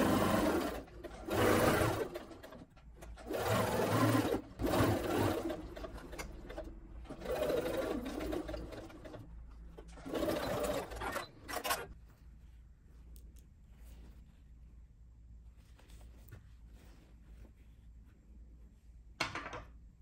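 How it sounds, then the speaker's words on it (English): A sewing machine runs in bursts, stitching an elastic channel close to an overlocked edge on a bubble frock sleeve, near and loud for about twelve seconds, then stops with quiet room tone and one brief final whir. "Stitch close to the overlocked edge to create the sleeve cap elastic channel"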